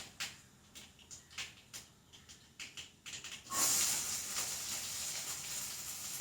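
Shallots and two dried chilies hit hot oil along with mustard seeds as they pop. A few sharp crackles come first, then a sudden loud hiss that settles into a steady sizzle, with no voices.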